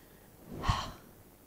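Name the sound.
breathing out through the mouth during yoga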